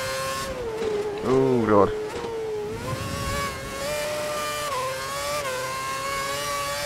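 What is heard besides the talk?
F1 race car engine during first lap, F1 2011 video game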